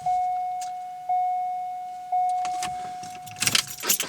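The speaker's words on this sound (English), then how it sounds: "Key on, actuator works" C5 Corvette steering column lock actuator running with the key on: three evenly spaced whirring hums over a steady electronic tone, ending in a burst of clicking and jangling mechanical noise, close and moderately loud.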